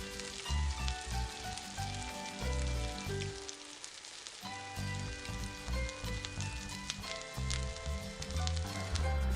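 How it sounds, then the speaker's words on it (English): Pork fries in a pan with a busy crackling sizzle that runs under a rhythmic musical backing, briefly thinning out in the middle before picking up again. "Continue to cook the pork until it is no longer pink."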